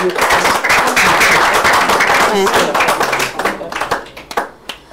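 A worship congregation claps hard and cheers, with loud, dense applause and shouts that break up into scattered claps toward the end.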